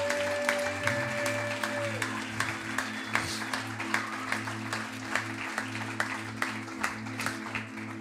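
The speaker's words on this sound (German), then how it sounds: "aber können wir mal einen riesen Applaus geben?" A church congregation applauds its staff and leaders. Steady clapping with regular sharp accents plays over sustained keyboard-like chords held underneath.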